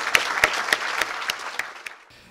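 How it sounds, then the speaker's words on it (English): Audience applause at a ground-breaking ceremony for a marine sciences and conservation genetics center, a burst of sharp individual claps from a modest crowd that thins out and fades within about two seconds. "Let's have a round of applause for"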